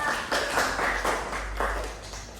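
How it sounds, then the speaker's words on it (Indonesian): Children in a classroom clap together in a short burst of uneven hand claps, moderately close, lasting about two seconds. "Beri tepuk tangan dulu untuk Wawa."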